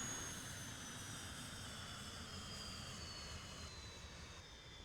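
A plane's jet engine running in the video game Arma 3, a steady whining roar with a faint high tone slowly shifting, quiet and unbroken throughout, no speech.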